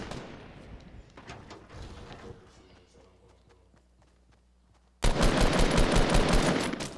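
Rapid gunfire in a Fortnite match: a loud, dense burst of shots erupts suddenly near the end after quieter scattered pops and footsteps.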